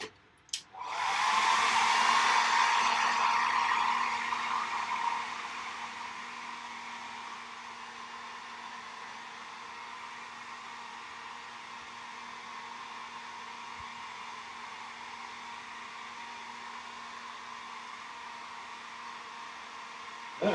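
Hair dryer blowing over painted artwork, a close steady roar that switches on sharply, holds loud for a few seconds, then settles to a lower constant whoosh that runs unbroken for the rest of the stretch.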